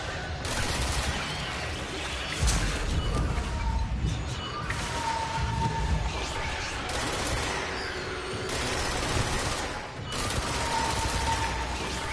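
Gunfire in the video game Control, a dense, continuous barrage of shots and impacts at close range, loud and steady across the whole stretch, with little to no talk.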